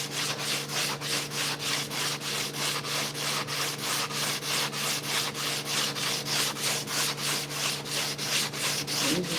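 Wood being sanded by hand with fine-grit sandpaper in fast, even back-and-forth strokes, a continuous close scratching rasp with a regular pulse and no voices.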